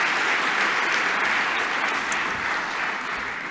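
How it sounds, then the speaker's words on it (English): Steady, dense applause from a large graduation ceremony audience of Melbourne Polytechnic graduates and guests, an even wash of many hands clapping continuously at close-to-mid distance. "So make sure you give yourselves a round of applause, and to our incredible teachers as well."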